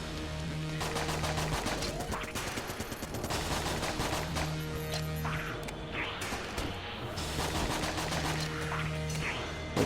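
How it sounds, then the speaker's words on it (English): Steady bursts of video game gunfire from a starter pistol during a boss fight, with repeated loud shots and clatter running continuously over a dense game soundtrack. "I'm going to take on the boss using just the starter pistol."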